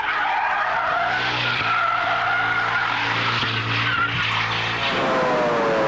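A Formula 1 car spins its wheels with traction control switched off, the engine holding a loud, steady high-revving drone under constant tyre scrabble and squeal, close and continuous throughout.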